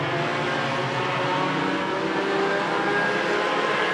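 Race cars in heat races thunder around the track in a dense, continuous engine roar, several cars blending together at steady volume without a break.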